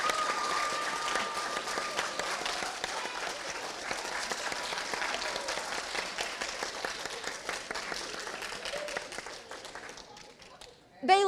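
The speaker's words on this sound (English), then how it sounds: "Can I get a round of applause?" Sustained applause from a graduation ceremony audience honoring teachers and parents, dense steady clapping filling the room for about ten seconds before tapering off, with a louder burst near the end.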